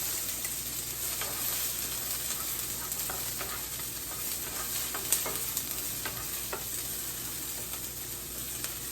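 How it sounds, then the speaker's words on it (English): Peppers sizzling in olive oil in a pan, an even, continuous frying hiss with scattered light crackles and pops, no voices. "I'm gonna cook the peppers for about 2 to 3 minutes before I add the shrimp in"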